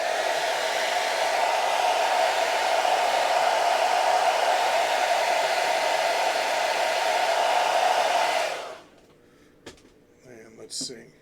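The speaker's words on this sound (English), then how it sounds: "Time to hit it with the hairdryer again" A hair dryer blows steadily and loudly on fresh paint for about eight seconds, then cuts off, leaving a few faint clicks and small handling noises.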